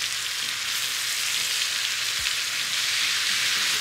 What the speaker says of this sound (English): we need about a tablespoon of that to grill our veggies. And now we're gonna go and start stirring.